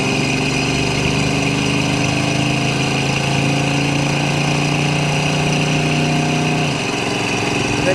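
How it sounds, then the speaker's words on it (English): A 1971 Chevrolet El Camino with a 350 V8 and automatic transmission drives under throttle. Its loud, continuous engine drone holds steady, then eases slightly near the end as it shifts. "We'll roll into the throttle here a little bit."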